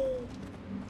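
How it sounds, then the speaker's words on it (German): An owl's hooting call in the video game Far Cry Primal: a single short, soft tonal hoot at the start, fairly quiet and fading over a low, steady game ambience, with no talking. "Lassen wir mal die Eule vor."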